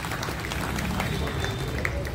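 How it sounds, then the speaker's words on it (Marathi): Audience applause at the inauguration of a cooperative society, with dense, steady clapping filling the whole stretch and voices mixed in. "आपण सर्वांनी टाळ्या वाजवून याचं अनुमोदन करावं"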